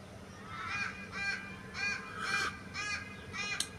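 Crows cawing repeatedly in a loose rhythm, several harsh calls overlapping, moderately distant over faint background noise.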